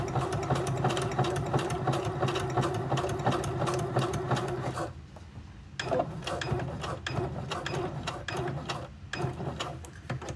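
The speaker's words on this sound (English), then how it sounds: "By sewing the straps like this, it's doing two things." A sewing machine stitches straps onto pockets in fast, rattling runs, stopping briefly midway before resuming its steady mechanical clatter close by.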